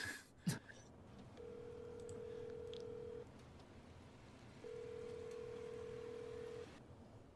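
A telephone call ringing out in a student short film, with two long, steady ringback tones separated by a pause, over a faint background hiss and a brief click at the start.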